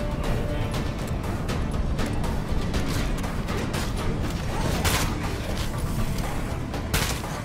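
Rapid gunfire in the zombie survival video game State of Decay 2, dense continuous shots and rumbling booms blending into a loud, unbroken roar.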